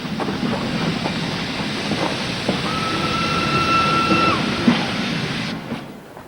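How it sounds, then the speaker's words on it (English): A train runs along a Welsh railway line some distance away, giving a steady low rumble with a faint drawn-out squeal, heard alone with no talking. "That must be the train who goes in this direction."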